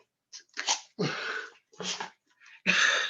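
Several short, sharp sneezes come in quick bursts, close by, separated by brief silences.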